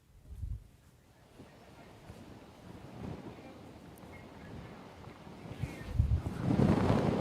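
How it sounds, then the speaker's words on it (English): Hurricane Ian's wind roars and buffets the microphone in Sarasota, Florida, a low rushing that builds into a strong gust toward the end, with surf-like noise underneath. "that was a big wind gust that just literally came right there."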